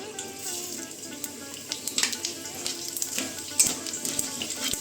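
Whole spices, bay leaves, dried red chillies and cumin seeds frying in white oil give a steady soft sizzle, with scattered pops and light stirring clicks throughout.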